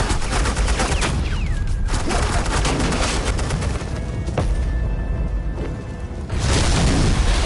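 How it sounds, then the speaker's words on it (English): Heavy suppressing gunfire in Batman: The Enemy Within, a loud, continuous barrage of rapid shots and booms that keeps up almost without pause. "Suppressing fire."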